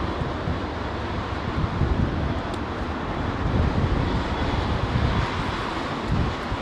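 An airliner rolls out after landing on a windy Heathrow runway, a distant, steady engine rumble buried in gusty wind buffeting the microphone, with no distinct peaks.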